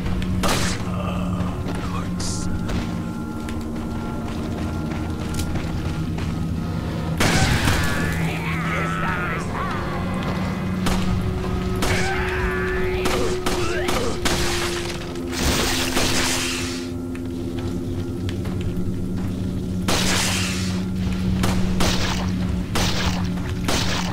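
Gunfire from a shotgun and other weapons in the survival horror game Resident Evil 4, heard as repeated heavy booms and thuds mixed with game sounds and steady voices talking throughout.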